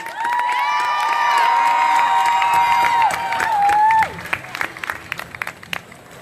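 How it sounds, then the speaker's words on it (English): A youth climate strike crowd in St. Paul, Minnesota applauds and cheers, with long whoops and shouts over clapping for about four seconds before thinning to scattered claps. "can we just give a round of applause to ourselves?"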